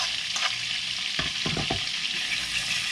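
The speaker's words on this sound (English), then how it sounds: "I'm gonna add my garlic that I chopped up on the side" Chopped garlic sizzling in melted butter in a pan for Samoan fa'alifu shrimp, a steady broadband frying hiss with a few soft stirring clicks and scrapes near the middle, close and continuous, no talking.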